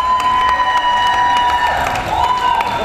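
An audience at a football-themed art festival show applauds and cheers loudly, with a steady wash of clapping and shouts and a high tonal sound running through it.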